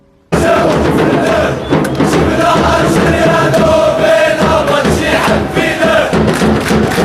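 Wydad football supporters chant loudly in a packed stadium, a dense roaring crowd with rhythmic sung chanting and thumps, sustained and close from start to finish.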